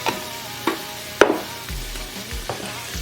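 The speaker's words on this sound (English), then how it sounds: "I'm going to give it a good mix, like this" Crushed tomatoes are stirred into a pot of coconut curry oxtail, with a few distinct scraping strokes of a spoon over a soft, steady sizzle and no talking.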